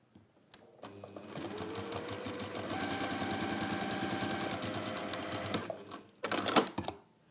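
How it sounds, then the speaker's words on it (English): Sewing machine stitching a fabric journal cover, a steady rapid mechanical whir running for several seconds after a short start, then stopping, with a brief burst of clatter near the end. "So you see I sew off, I keep that needle down, lift, rearrange."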